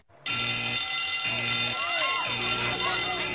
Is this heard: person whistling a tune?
no